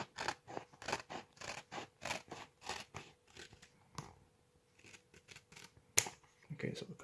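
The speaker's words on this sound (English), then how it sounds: "Then I try to trim this as much as I can." Scissors snip repeatedly while trimming a handmade custom field center card, a steady run of close, crisp cuts that slows and spaces out toward the end, with a few scattered rustles and handling noises.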